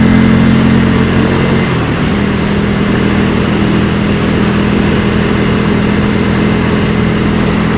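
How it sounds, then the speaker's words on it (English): A motorcycle engine runs steadily while riding, a loud continuous mid-pitched drone with a slight shift in tone early on, then even cruising with broadband road and wind rush and no talking. "That's one of the joys of being able to ride a motorcycle."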